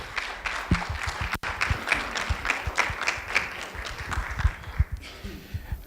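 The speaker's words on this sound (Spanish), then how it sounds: "Entonces pido un gran aplauso para el maestro José Luis Martínez" An audience at a law and transparency conference applauds a speaker with steady, dense clapping that runs nearly six seconds before trailing off, heard from within the hall with no talk over it.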